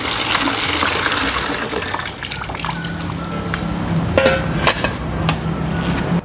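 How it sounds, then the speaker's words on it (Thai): Water gushes and splashes steadily as cold water is poured out of a pot of blanched squid, with a few sharp clanks of metal against metal near the end. "แล้วก็เทน้ำเย็นออก"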